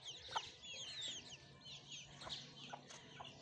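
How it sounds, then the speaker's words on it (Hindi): A hen on a farm gives repeated soft clucks and short chirpy calls with little pauses, faint and somewhat distant over a low background hum. "और ये जो हमारी बड़ी वाली मुर्गी है जो पहले वाली थी"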